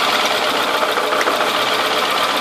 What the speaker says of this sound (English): Engine sounds a lot better, it still has a minor miss.